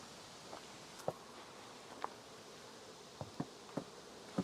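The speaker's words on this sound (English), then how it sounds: "These bees have calmed down a lot." Faint buzzing of bees close by at a beehive split, with soft scattered ticks and taps over a quiet background hum.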